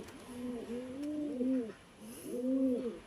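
Two pigeons coo in repeated low, rounded phrases, one long call followed by another after a short pause, close by and fairly clear with no talking.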